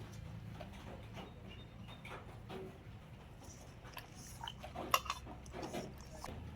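Marinated fish pieces being turned over in a dish make soft, quiet clinks and scrapes, with one sharper knock partway through.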